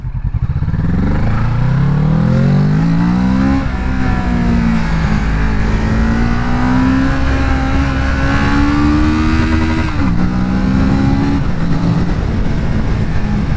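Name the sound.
inline twin-cylinder motorcycle engine accelerating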